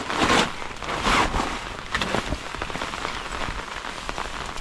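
Steady rain patters on foliage and surfaces in a forest, a dense, even hiss with brief louder bursts near the start, no voices.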